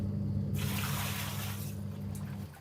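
Water from melted ice sloshes and trickles inside an ice cream box, a loud, close burst of splashing lasting about a second over a steady low hum, then fading.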